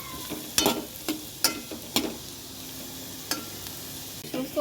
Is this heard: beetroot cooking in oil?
yes